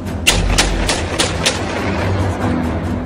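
An AK-47 fires five loud shots one after another at a quick, even pace, with echoing reverberation lingering after the final round.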